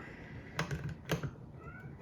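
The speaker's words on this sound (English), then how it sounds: "You can probably hear my cat freaking out outside of the door." A cat meows a few times, muffled from behind a closed door, faint and short, with light clicking and tapping sounds close by.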